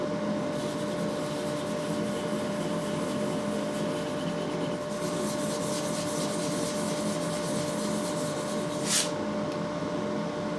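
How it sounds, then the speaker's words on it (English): Steady hand sanding of surface slurry off a guitar fretboard during finishing, a continuous abrasive rubbing that runs throughout at an even level, with a brief brighter scrape near the end. "I've sanded off most of the surface slurry"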